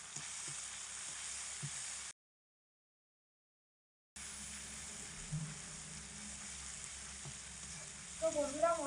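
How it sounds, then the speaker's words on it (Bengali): A spice paste of ginger paste, cumin paste and red chilli powder sautés in a pan on low heat, giving a faint, steady sizzle broken by a short silent gap, with brief stirring and a voice near the end. "কিছুটা আদা বাটা, কিছুটা জিরে বাটা, সবকিছু একসঙ্গে খুব ভালো করে কষিয়ে নেব।"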